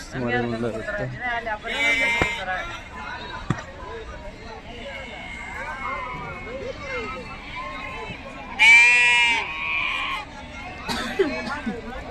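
Young sheep or goats bleat at the Haveri livestock market, with several short, sharp calls rising over steady crowd chatter and talk nearby.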